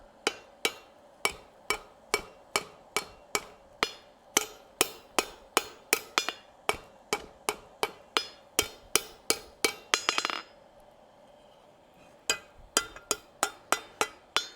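Steady hammer blows ring on a hot steel hacksaw blade worked over an anvil horn, a fast regular run of sharp metallic strikes that pauses briefly near the end before resuming.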